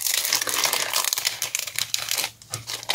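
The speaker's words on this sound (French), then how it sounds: "maintenant je vais découper le papillon" A paper butterfly shape is cut with a metal die for autumn card making, giving a dense run of crinkling, crunching paper and rasping sounds close up over a few seconds, with no voice.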